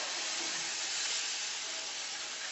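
Pancake batter ladled into a hot frying pan gives a loud, continuous hiss of sizzling that holds steady and close for a couple of seconds, alone with no voices.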